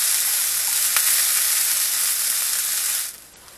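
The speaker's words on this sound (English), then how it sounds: "Got those onions going there." Onions sautéing in a skillet until golden and translucent give off a steady, loud broadband sizzle with a single brief clink near the first second, cutting out abruptly toward the end.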